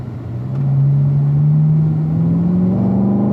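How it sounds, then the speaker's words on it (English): A race car accelerates down the straightaway, its engine rising from a low rumble into a loud, steady drone that climbs slowly in pitch, close and alone without talk. "Let's accelerate all the way down the straightaway."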